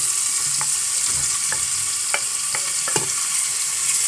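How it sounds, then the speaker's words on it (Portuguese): Onion frying in a pan for a tripe and potato stew cooked over a wood fire, a loud steady sizzle with several sharp clicks of stirring scattered through it. "Vou colocar a cebola também para fritar na nossa dobradinha."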